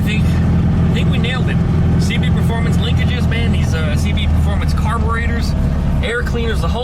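A car engine fitted with dual Weber 34 ICT carburetors and CB Performance linkages and air cleaners idles steadily and loudly up close, a constant rumble with faint higher whines mixed in throughout.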